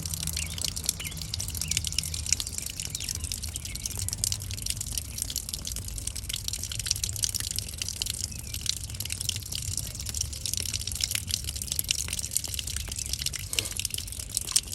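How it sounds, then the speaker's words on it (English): Constant hissing gush of water escaping from a lawn sprinkler valve with a worn diaphragm, steady and close throughout, with birds chirping in the background. "Water coming out of here is actually normal."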